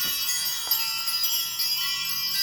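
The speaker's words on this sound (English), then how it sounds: "I want to ring the bells and create some sacred space around this reading" Small bells ring to open a tarot reading, bright sustained shimmering tones with a few soft fresh strikes layered over a lingering metallic wash, close and fairly loud, with no voices.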